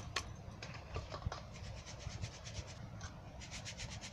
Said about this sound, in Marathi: ही डाळ वाटलेली आहे, ही आता चाळून घेते